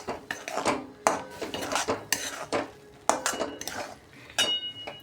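A spoon stirs a cup of semolina into water in a metal pot, making close, uneven scraping and clinking against the pot with short pauses between strokes.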